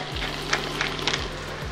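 Breakfast potatoes frying in a pan with the lid on: a steady, close sizzle with faint crackles and a low cooktop hum, continuous and without talking.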